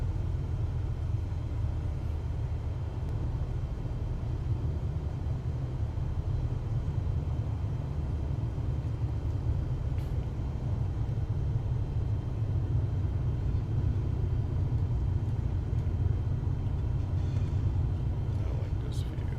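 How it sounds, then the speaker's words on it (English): A jet airliner taxies toward the runway in Microsoft Flight Simulator 2024, its engines giving a steady, continuous low rumble and whine that holds even throughout. "let's taxi to the runway here"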